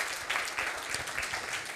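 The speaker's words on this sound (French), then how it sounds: "on peut applaudir Philippe Lepère pour cette présentation" An audience applauds a speaker after a presentation at an e-health conference, with a dense, steady wash of clapping that holds at an even level from start to finish.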